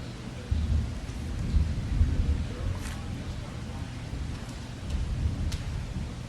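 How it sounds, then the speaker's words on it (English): Rain falls steadily during a thunderstorm in Tampa at night, with low rumbles of thunder rolling beneath it and a few sharper crackles heard indoors. No one talks. "having a little bit of a storm here in Tampa tonight"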